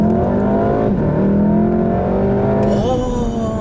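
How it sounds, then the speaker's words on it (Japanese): A turbocharged Volkswagen Golf R, fitted with a replacement compressor blade, accelerates hard in second gear from about 20 km/h. The engine revs climb steadily and loudly, with a brief dip and a renewed rising pull near the end, close up and with no talk. "ノーマルモードで、2速20キロぐらいからまずは加速したんで、それを試してみようと思います"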